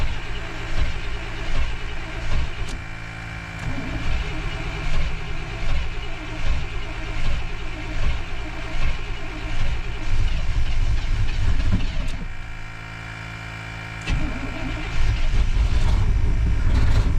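A 1992 Chevy Blazer engine idles and runs with a continuous rough rumble, briefly dipping before picking up again, with faint clanks and movement nearby.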